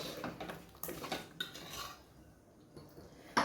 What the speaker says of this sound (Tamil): தக்காளி போட்டு நல்லா கிளறி விட்டுடலாம்.